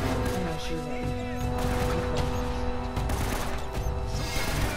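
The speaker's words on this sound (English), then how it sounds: "I hear shooting." Gunfire in Uncharted: Drake's Fortune, dense bursts of shots and crashing impacts rattling continuously through a noisy game scene, with voices talking over the barrage.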